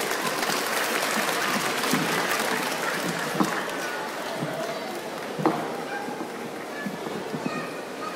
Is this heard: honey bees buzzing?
no